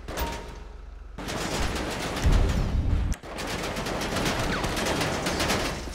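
Grand Theft Auto V gunfire: quiet at first, then a loud, continuous barrage of rapid overlapping shots with a brief drop in the middle before the firing resumes and keeps going.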